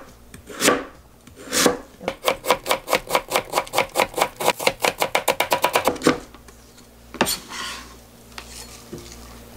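A kitchen knife chops radish into julienne strips on a cutting board: a few slow strokes, then a fast, even run of about twenty crisp taps that speeds up, followed by a pause and a few last scattered cuts.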